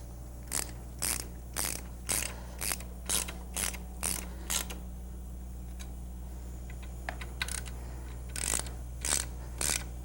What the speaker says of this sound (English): I'm only getting about 4, maybe 5 pounds of torque out of that electric ratchet.